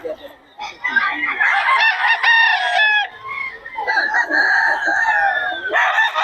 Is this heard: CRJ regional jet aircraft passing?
no